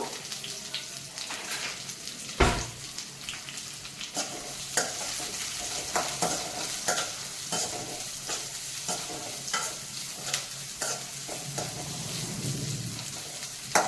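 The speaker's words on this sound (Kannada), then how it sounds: "ಇವಾಗ ಆನಿಯನ್ಸ್ನ ಹಾಕೋತಿದ್ದೀನಿ ಹಾಕೊಂಡು ಫ್ರೈ ಮಾಡ್ಕೋಬೇಕು" Onions frying in a pan and being stirred continuously, a dense close sizzle with busy, irregular scraping and clatter of the spoon, plus a louder knock early on.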